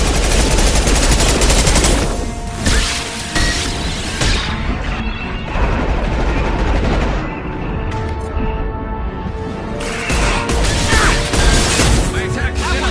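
Gunfire in a video game, loud dense bursts and crashing impacts filling the whole stretch with little pause.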